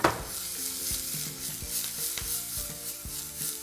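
Chana dal, ginger, onion and curry leaves sizzle loudly in hot oil in a pan, a continuous crackling fry broken by repeated stirring scrapes of a spoon, close and steady with no talk.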